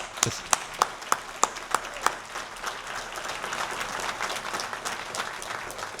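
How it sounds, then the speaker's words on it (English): An audience at an academic convocation applauds award winners, starting with a few distinct loud claps that build into dense, steady clapping from a crowd, moderately distant. "Round of applause for all of our award winners."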